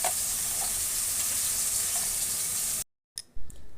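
Whisked sour yogurt hits a frying tomato-and-spice masala for potato curry, setting off a loud, steady close-up sizzle that cuts off abruptly near the end, followed by a couple of brief clatters.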